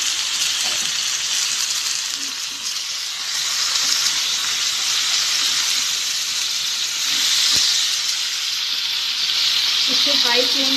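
Chicken pieces frying in a hot pan for chicken curry give a loud, continuous hissing sizzle that swells and eases slightly, with a few faint clinks of utensils near the end.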